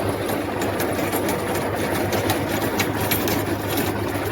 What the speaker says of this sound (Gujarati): આપણા ડબલ ધરાનું રોટાવેટર છે ને થોડું ટ્રેક્ટરમાં પણ લોડિંગ પડે છે